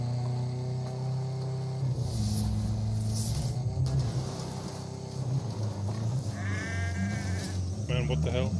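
Goat bleats ring out amid rumbling engine noise and game sounds in the video game Ghost Recon Breakpoint, with a voice talking throughout.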